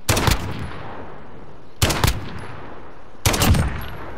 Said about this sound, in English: I shot him out of the vehicle while I was moving.